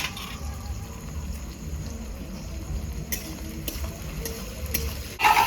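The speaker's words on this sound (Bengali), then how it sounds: "এক চামচ লবণ দিয়ে দেবো যাতে পেঁয়াজ তাড়াতাড়ি ভাজা হয়ে যায়" Onions fry with a spoon of salt in a pan, a low continuous sizzle with occasional clicks and scrapes of stirring, ending in a louder clatter; no talking.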